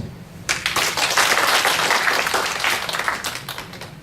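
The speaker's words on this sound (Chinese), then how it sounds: "我们热烈掌声感谢我们主讲人叶典以及我们引言人俊伟。" An audience at a lecture event breaks into loud, dense applause that swells quickly and keeps going for several seconds before slowly thinning out.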